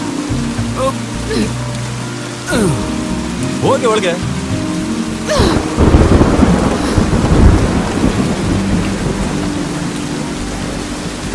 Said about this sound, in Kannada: ಮಳೆ ಬರ್ತಾ ಇದೆ ಹೋಗೆ